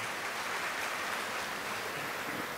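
A graduation crowd at a university ceremony gives a sustained, even round of applause, the dense clapping steady and moderately distant throughout.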